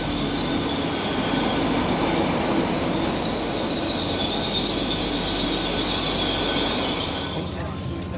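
A train arriving at a station rolls through with loud, sustained high-pitched wheel squealing over a steady rumble of carriages, continuous from start to finish.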